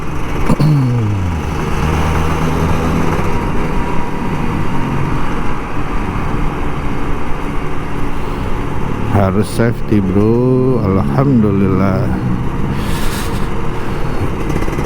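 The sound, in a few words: Kawasaki Ninja RR 150 motorcycle engine revving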